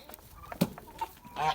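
Liven Calico chickens cluck and murmur nearby in short, scattered bursts, with one sharper squawk and a brief trilling call toward the end.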